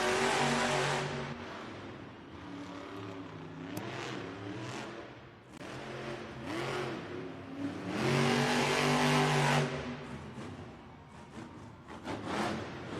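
The Gravedigger monster truck races through a Monster Jam arena event, its engine roaring loud and close for the whole stretch with repeated revving surges and shifting pitch, and no talk over it.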